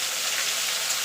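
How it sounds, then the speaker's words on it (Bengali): Ground spice paste of tomato, green chili and ginger frying in a pan for fish curry, a steady bright sizzle with crackling hiss throughout, close and alone. "মশলাটা একটুখানি কষিয়ে নেব।"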